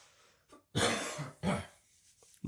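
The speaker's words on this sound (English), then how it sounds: "I'm turning away from the microphone to cough." Two harsh, close coughs, the first longer and rougher, followed by a short breath and quiet.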